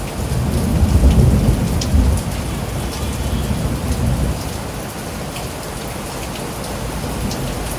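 Heavy rain pours during a storm in Athens, Greece, with rolling thunder rumbling loudly in the first few seconds and then easing under the steady close hiss of falling rain.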